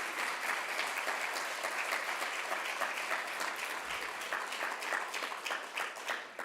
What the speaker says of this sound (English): So a round of applause for the staff here.